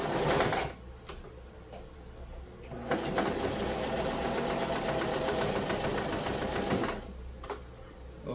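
A sewing machine stitches a phone case in a rapid, steady mechanical whir with fast needle clicks, running in a sustained burst between brief starts and stops, close up.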